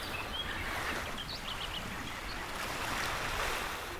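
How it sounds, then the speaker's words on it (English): Steady broadband wash of calm Baltic Sea surf rolling onto a shore, continuous and even, with no voices or distinct breaks. "The calm sea practically invites us to take a morning stroll and listen to the waves and birds."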